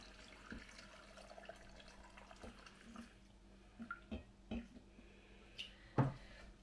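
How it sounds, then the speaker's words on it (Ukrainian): Salt brine poured into glass jars for hot-method pickled cucumbers, heard as soft trickling liquid with a few irregular splashes and clinks, the loudest near the end, over a low hum. "Розчинену сіль я додаю в банки, скільки війде майже до верху."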